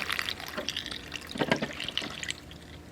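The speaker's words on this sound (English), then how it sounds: "pour a 3/5 of a gallon of washer fluid into a really, really relatively small funnel" Washer fluid is poured from a jug into a small funnel under a vehicle hood, a close, uneven gurgling and splashing stream with faint drips and no talk.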